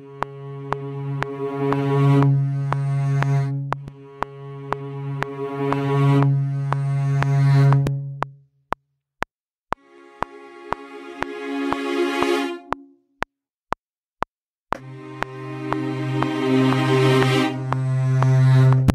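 Hyperion String Elements sampled strings play sustained chords in phrases with short gaps between them, while a sharp metronome click ticks steadily throughout.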